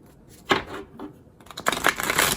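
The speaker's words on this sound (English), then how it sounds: "Not always the best shuffler." A deck of cards being shuffled by hand gives quick papery riffles and flutters in uneven bursts, soft at first and then a longer, denser riffle. It is close and moderately loud, with no talking.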